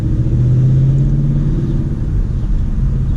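Manual-transmission car engine running while shifting back into second gear, a steady low rumble with a brief dip and recovery in the middle, close and loud, no talking.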